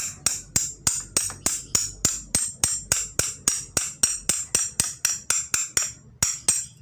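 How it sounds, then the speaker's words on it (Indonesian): A chisel is struck repeatedly into the bark and wood of bonsai material, giving about twenty sharp, evenly spaced taps close by with no talk. "Ini tak pahat sampai kayunya kena, bukan hanya kulitnya."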